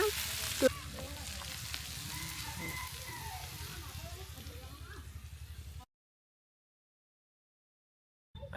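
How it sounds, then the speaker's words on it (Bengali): Flat beans (sim) with onion greens frying in oil in a pan in a rural kitchen, a steady close sizzle with scraping stir strokes, then cut off into silence. "এভাবে নেড়ে চেড়ে আর কিছুক্ষণ ভেজে নিব, তাহলে আমার ভাজিটা হয়ে যাবে।"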